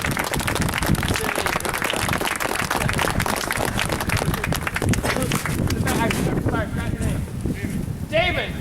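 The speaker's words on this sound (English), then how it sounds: "huge round of applause for your tour guides that are in the back, Brian and..." A crowd on a winter tour of the Cedar Point amusement park claps and cheers for its tour guides, steady dense applause filling the whole stretch and fading slightly near the end.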